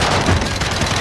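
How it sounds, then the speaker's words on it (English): Rapid bursts of gunfire in a Call of Duty video game blend into a dense, loud rattle over about a second, sounding like sustained automatic shooting. "The gunshots, of course."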